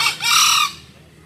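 A green junglefowl gives a single loud, close crow, a short hoarse burst that cuts off abruptly and is heard alone without talk.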